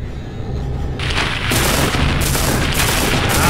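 Gunfire in the Silent Hill video game: several loud, sharp shots crack in quick succession over a dense, noisy background, with no one speaking.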